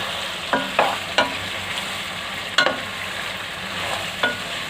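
Mutton for a dhaba-style do pyaza being stirred and sautéed in a pan, with a steady low sizzle of frying broken by a few sharp scraping clacks of the spoon against the pan.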